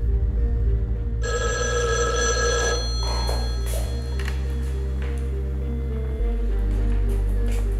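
A telephone rings at a payphone with a bright, trilling electronic bell over a steady low hum and musical drone, the ring loud and continuous for a couple of seconds before fading into the background.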